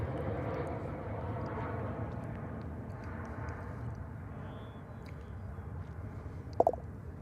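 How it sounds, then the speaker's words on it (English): An American Airlines Airbus A321, Flight 1947 from San Diego, arrives at Dallas/Fort Worth Airport, its engine noise a steady low broadband roar that fades slowly, with a brief sharp knock near the end. "a flight from San Diego, California, American Airlines Flight 1947, an Airbus A321"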